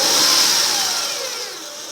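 A 2005 Acura RL engine idling with a steady high-pitched alternator whine riding over a broad mechanical hiss, heard close up and fading slightly as it settles.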